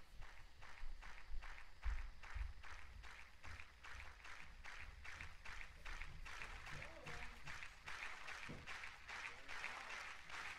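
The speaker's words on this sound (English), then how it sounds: "Have this sample of a clap. It's like a crowd cheering that I cut into a clap." Crowd cheering sample chopped into a clap, repeating as a rapid, steady rhythm of short bursts throughout, moderately loud, with faint talk underneath.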